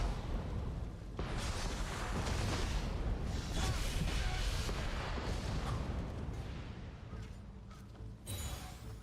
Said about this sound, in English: There's cannons everywhere.